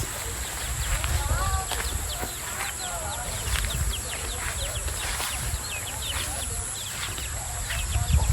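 Outdoor farmyard scene with chickens clucking and squawking in short bursts, alongside birdsong, a steady background hum and occasional voices.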